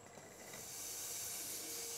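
A soft, steady sizzling hiss of diced pear cooking in a saucepan, growing slightly stronger, with no voices.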